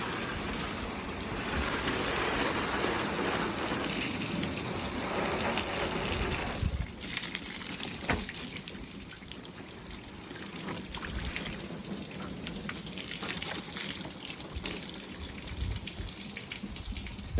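Water sheeting and running off the panels of a car freshly treated with a hybrid ceramic coating, a steady broadband rush that eases after a few seconds into softer splashing and trickles, with no talk.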